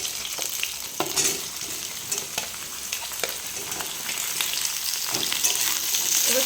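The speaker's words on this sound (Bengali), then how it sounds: "এবার সবজিটাকে ভালো করে একটু ভেজে নেব" Fenugreek greens (methi shak) frying in a pan over a tempering of crushed garlic and green chillies, with a steady hiss of sizzling oil and scraping stirs recurring throughout, growing slightly louder toward the end.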